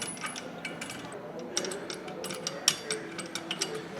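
Ratcheting, clicking mechanical sounds as a reverse-threaded nut is spun onto the primary drive of a trail bike in a workshop, a string of light metallic ticks and clacks, close and moderately quiet.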